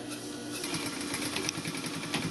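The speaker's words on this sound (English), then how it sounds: "Start with back tack, sew the whole length of that line, and end with the back tack, needle up" A sewing machine runs a steady stitching line along a welt pocket, its fast, even whir continuous and close throughout.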